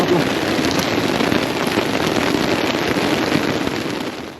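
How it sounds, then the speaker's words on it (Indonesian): Steady rain falls on a mountain campsite on Gunung Guntur, a dense, even patter that fills the whole moment at close range with no pause, and no one speaks over it. "Tiba hujan"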